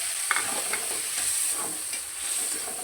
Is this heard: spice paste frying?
yes